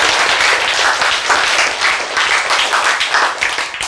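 Loud, steady applause from a lecture audience, dense and continuous clapping filling the room for several seconds without a break.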